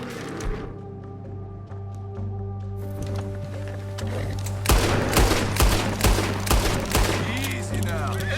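Gunfire in the Red Dead Redemption video game during a bear hunt, a rapid volley of loud shots over steady game ambience, with a voice speaking in the scene.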